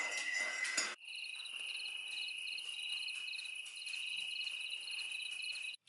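Crickets chirp in a steady, pulsing chorus from a Google Home smart speaker's ambient sound, following a short burst of rustling noise at the start.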